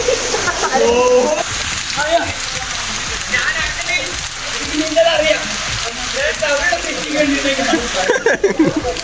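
Rain splashes and patters onto wet surfaces at the Thenmala eco-tourism spot in Kerala, a steady wash of droplets heard under a person talking.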